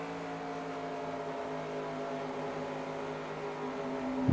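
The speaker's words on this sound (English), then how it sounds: "You can hear Matt Watkins airing it out a little bit, breathing the throttle through 1 and 2" Race car engine at Darlington with driver Matt Watkins feathering the throttle, a steady, moderately loud droning hum with layered tones that stays even throughout and rises briefly at the very end.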